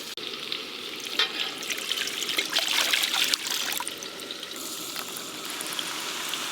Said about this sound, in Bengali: ডাল সেদ্ধর জন্য কড়াতে জল দিয়ে দেবো।